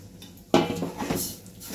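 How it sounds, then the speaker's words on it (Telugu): Rice is tipped into a pan of fried ingredients for coconut rice prasadam, giving a sudden close rattle and clatter against the metal that quickly settles into a softer rustle. "సో రైస్ యాడ్ చేస్తున్నాను ఇప్పుడు."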